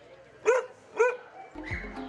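Rescued dogs give two sharp, loud barks about half a second apart, followed by softer mixed background noise and a faint whine.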